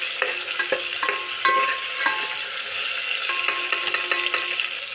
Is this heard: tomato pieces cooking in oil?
yes